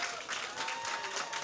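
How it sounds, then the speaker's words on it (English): A conference audience applauds a panel on construction skills, a faint, steady wash of clapping heard from a distance for a brief moment. "can we give the panel a massive round of applause?"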